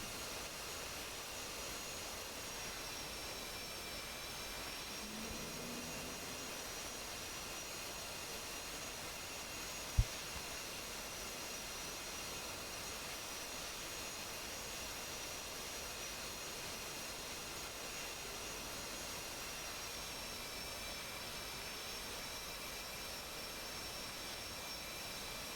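Hornet jet fighters taxi at a distance, a steady, faint broadband roar and high turbine whine holding constant throughout, with one brief sharp click partway through.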